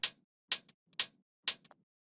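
Crisp, bright hits from a tech house drum loop with transient processing repeat in a steady pulse, about every half second, each followed by short ghost ticks. The loop sounds dry, close and clipped, with nothing else heard.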